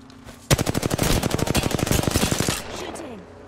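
Automatic gunfire in the video game Apex Legends rattles out in one sustained, loud burst of rapid shots lasting about two seconds, then cuts off into a short fading tail.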